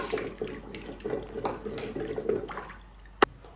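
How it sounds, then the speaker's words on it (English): Water poured into a mortar to rinse out leftover pepper soup spices for Nigerian catfish pepper soup, a steady close trickling and splashing with a sharp knock near the end. "I'll be adding a little bit of water into the mortar to rinse out the other remaining ones"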